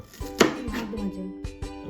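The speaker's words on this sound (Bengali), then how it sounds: "এখানে দেখছি রমি কাটাকাটি করছে পেঁয়াজ" A knife chops onions on a cutting board in a home kitchen, a few sharp close knocks spaced irregularly with faint background sounds.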